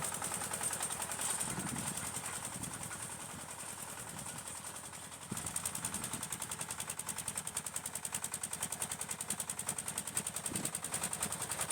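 A mini tractor engine chugs steadily while sowing rapeseed in a field, a rapid even mechanical rattle that shifts slightly in load midway and continues unbroken at moderate distance.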